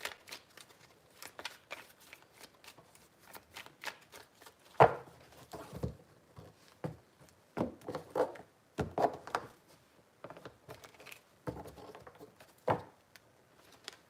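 Tarot cards being shuffled three times, a quiet series of soft riffling and tapping bursts, close up and otherwise near-silent.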